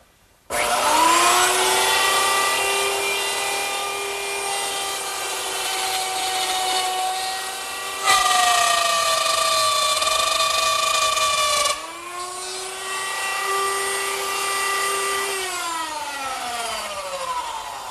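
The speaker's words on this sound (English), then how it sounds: "I use the same router setup with a stop block in a new position and a reference line to plunge down into the router bit" Plunge router with a stop block cutting a mortise into a wooden table leg: a loud, high whining motor drone that dips in pitch as the bit bites into the wood, with a few abrupt changes in load and no talking.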